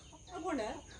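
A chicken clucks briefly as it is let out, a short rising-and-falling call of a few notes at moderate distance, set against a faint murmur of surrounding activity.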